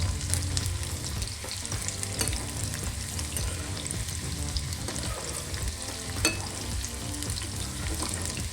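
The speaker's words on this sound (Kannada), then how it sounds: "ಸೊ ಎಲ್ಲ ಕಡೆನೂ ಅದು ಚೆನ್ನಾಗಿ ಫ್ರೈ ಆಗಬೇಕು." Chicken kabab pieces frying in oil give a dense, continuous crackling sizzle with scattered pops, steady and close throughout.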